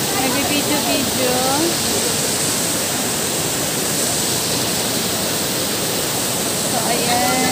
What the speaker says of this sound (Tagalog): nandito po kami sa Tagnuti Falls